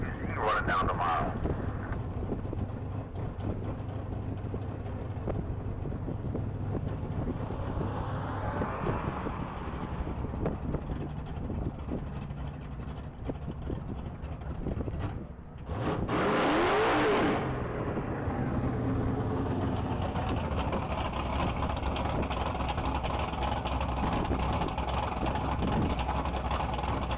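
2018 Lincoln Continental running the mile at speed at a top-speed event, a distant engine drone under wind buffeting on the microphone, with a brief louder swell as it passes partway through.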